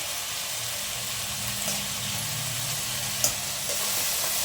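Vegetables with ginger-garlic paste and tomato frying in a pan for a village-style bitter gourd gojju, a continuous soft sizzle and hiss with a faint low hum and one small clink of a utensil.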